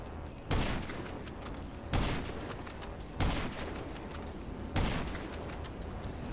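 Gunfire in GTA 5 Online on Xbox One: four loud, separate blasts roughly every one and a half seconds, each with a long noisy tail over a steady background din.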